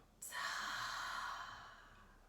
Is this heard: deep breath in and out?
yes